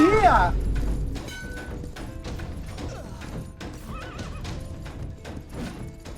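A horse in the video game Myth of Empires gives a loud, close whinny right at the start, then clip-clopping hooves and scattered thuds and game sounds carry on through the rest of the stretch.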